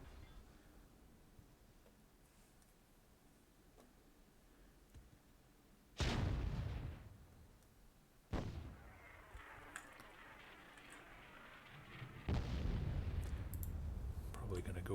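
Cannon artillery fire in the WWII-themed Myth II Soulblighter game, three sharp loud blasts a few seconds apart, each followed by a rumbling tail over a quiet background.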